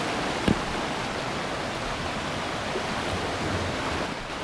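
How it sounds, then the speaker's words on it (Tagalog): Strong ocean waves break at Cabongaoan Beach in Burgos, Pangasinan, a continuous, dense wash of surf that roars steadily, with no voices over it. "Oh, lakas na ng alon, no?"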